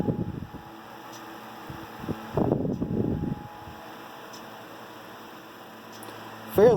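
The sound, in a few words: Westinghouse LivelyAire 10LA oscillating desk fan running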